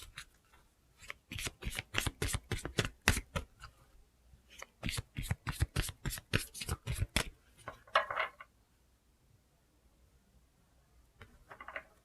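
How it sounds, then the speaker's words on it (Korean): Oracle cards are shuffled in quick, papery riffling bursts, close and crisp, then pause before a few softer slides and flicks as cards are drawn. "오라클 카드 좀 뽑아볼게요."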